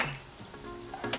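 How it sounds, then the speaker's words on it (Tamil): Whole spices, star anise, cinnamon stick and cloves, dropped into hot oil on a gas stove, crackling and sizzling close up in a steady fry with a couple of brief spoon stirs, no voices. "எண்ணெய் காஞ்ச உடனே ஸ்டார் அன்னாசி போட்டுறேன்."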